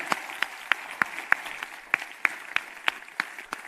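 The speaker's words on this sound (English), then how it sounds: "Now keep that applause going" Audience applause at an annual ventures showcase after an industry challenge, a continuous crowd clapping with sharp, regularly spaced louder claps standing out up close.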